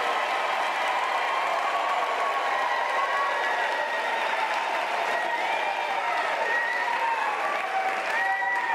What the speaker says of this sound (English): This is the opportunity for us to give them a round of applause